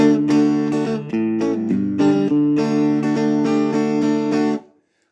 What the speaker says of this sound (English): there's a rather long 4-bar strumming pattern